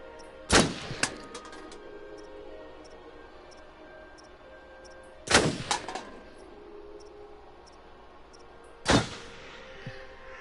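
Three sharp shots from a video game, Until Dawn, as the character Chris fires at targets, spaced several seconds apart, each a loud crack with a short metallic ring.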